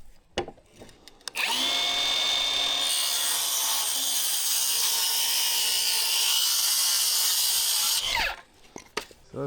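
A power saw whines through a wooden joist in a workshop, a loud, close, sustained buzzing cut lasting several seconds, then spinning down, with brief knocks before and after.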